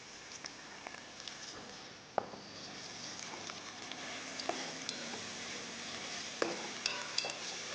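Curd being added and stirred into quail biryani masala in a pot, with soft scraping, spoon clinks and a faint sizzle repeating close by, no talk.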